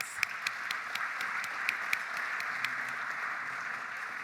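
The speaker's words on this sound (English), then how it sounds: "let's give everyone a nice round of applause" Rotary club members and guests at a weekly afternoon meeting applaud: a soft, steady bed of clapping from a room-sized group with a few sharper nearby claps standing out, heard faintly and with no speech.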